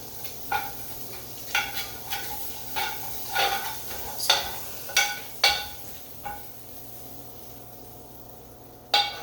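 Burnt cheese scraped from a skillet where ground beef fries in butter: about a dozen sharp, evenly spaced scraping strokes over a low, steady sizzle.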